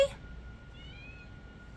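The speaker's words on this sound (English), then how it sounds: "I have a cat crying for her toy." A house cat gives a single short meow right at the start, crying for a lost toy. Only quiet indoor room tone follows.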